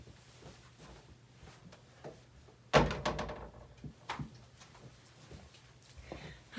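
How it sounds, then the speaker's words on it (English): A door closes with a single solid thunk and short rattle partway through, fairly close, in a quiet room during a children's book reading. "I'm just going to close the door real quick."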